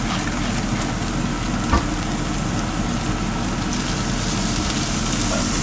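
Bacon browning in oil in a pot, a loud, continuous crackling sizzle that stays steady throughout, with one brief knock partway through and no talking.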